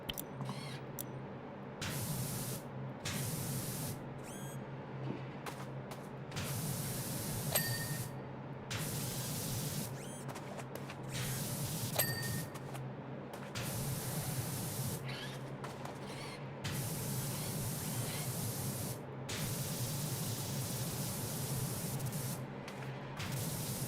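A power washer nozzle sprays in PowerWash Simulator, a loud continuous hissing jet broken by brief gaps where it stops and restarts, with occasional faint clicks.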